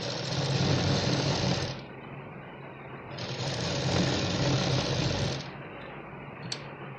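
A sewing machine stitching a blouse runs in steady whirring bursts close by, with a brief pause in the middle before it starts again and a short stop near the end.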